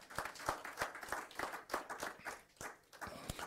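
A church congregation claps in praise during an Ascension service, a steady run of sharp, fairly close hand claps with slightly uneven rhythm and no talk over them.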